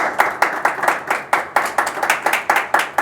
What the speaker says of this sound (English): It has applause back here in the background, I guess.